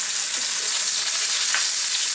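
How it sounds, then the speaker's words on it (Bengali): Pieces of rohu fish frying in hot oil, a loud continuous crackling sizzle heard close up without any voices. "মাছগুলা পছন্দ মতো ভাজা হইলে আমি এগুলাকে উঠাই নিব"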